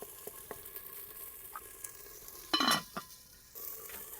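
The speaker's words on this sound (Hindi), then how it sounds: "अब थोड़ी देर के लिए ना हम इसकी भी प्याज़ों के साथ ना भुनाई कर लेते हैं" Ginger garlic paste frying with onions in a pan in a rustic mud house kitchen: a faint, steady sizzle with scattered soft clicks of stirring and one louder scraping burst midway.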